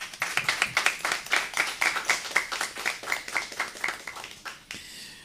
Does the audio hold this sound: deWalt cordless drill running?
no